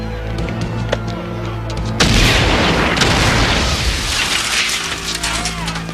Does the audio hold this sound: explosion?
yes